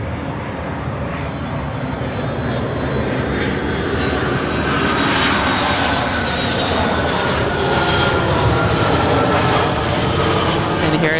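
Delta Airlines Boeing 757-200 arriving at LAX: a loud, sustained jet roar that swells slightly toward the end, with a whining tone above and a voice faintly underneath.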